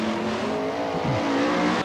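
A Brisca F1 stock car race, with loud engines roaring past at close range and a brief scraping screech as a car crashes and rolls over on the back straight, ending abruptly.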